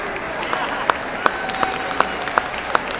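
An event audience in Buffalo, NY claps, quick scattered hand claps in an uneven rhythm, moderately loud, over a murmur of room noise and faint voices.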